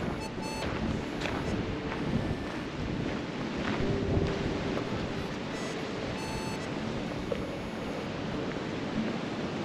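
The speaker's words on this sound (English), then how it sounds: "Really windy today." Strong wind roaring and buffeting the microphone outdoors, a constant rough rush with no pauses.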